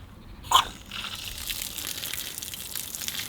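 Water from a garden hose pipe beside a hedge at an old Scottish cottage starts with a brief splashing burst, then settles into a steady, moderate gush, with no talk.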